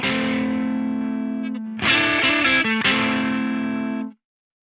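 An electric guitar played through a BOSS EQ-200 equalizer with the mid-range boosted, giving a distorted, sustained chord, then a few quick changing notes and another held chord that cuts off abruptly.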